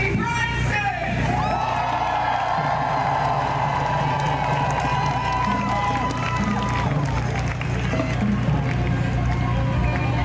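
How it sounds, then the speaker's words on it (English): A crowd at a SoCal Uprising gathering in Long Beach, California, applauds and whoops for a speaker, with continuous loud clapping and raised voices over about ten seconds and shouts mixed through. "Let's give a huge round of applause for Anthony Bryson"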